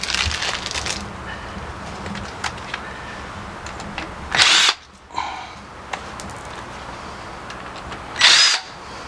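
A power drill backs screws out of a door hinge, giving loud close bursts of motor whine with short pauses between them, set against a faint background with scattered small knocks.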